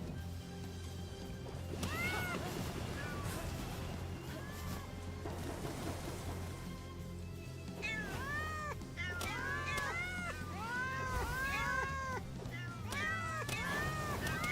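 Many cat creatures in the video game Palworld meow and yowl repeatedly, overlapping in a busy chorus of rising and falling cries over steady background ambience, with some speech mixed in.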